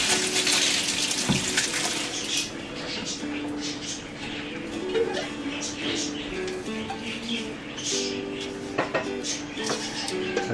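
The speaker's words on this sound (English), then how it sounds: "I'm just going to drain them off here" Water runs and splashes as soaked peaches are drained in a sink, a steady trickling flow with faint bird chirps in the background.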